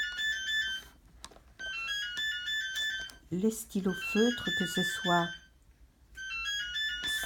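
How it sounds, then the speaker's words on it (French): A mobile phone ringtone chimes in repeated bright melodic bursts, fairly loud and close, pausing while someone talks over it, then resuming after she stops. "Oh, tu te calmes le téléphone là?"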